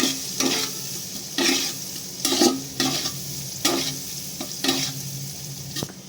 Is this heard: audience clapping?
no